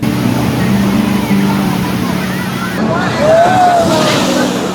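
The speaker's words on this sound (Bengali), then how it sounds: "আমার ঠিক এই দিকে রয়েছে হচ্ছে সমুদ্র, আর এই দিকে রয়েছে হচ্ছে নদী।" Sea waves at Digha beach wash in as a steady, loud, hissing roar, with wind buffeting the microphone and a faint tonal whine partway through.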